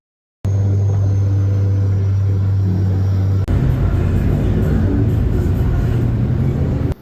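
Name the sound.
tuk-tuk ride in Bangkok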